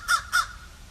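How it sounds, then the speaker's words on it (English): Two loud, harsh crow caws ring out close by outdoors, a quick pair of calls followed by quiet. "That's a loud bird."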